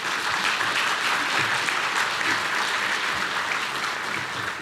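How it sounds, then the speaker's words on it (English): Sustained applause from an audience at a city's State of the City address, a dense, steady wash of clapping filling the room at even loudness with no voices over it. "So we can give a round of applause."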